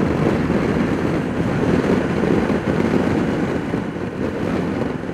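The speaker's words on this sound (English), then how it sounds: "So I'm getting a ton of wind in my face." Heavy wind buffets a rider's helmet on a Can-Am Spyder F3 three-wheeler at speed, a constant loud roaring rush close to the microphone with a faint engine drone beneath.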